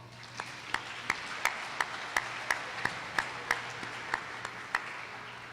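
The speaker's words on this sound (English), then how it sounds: "If we could please give them all a round of applause." Applause from parents and students at a 2019 high school signing day; scattered, evenly spaced claps ring out fairly faint against a quiet room hum, with no voices over them.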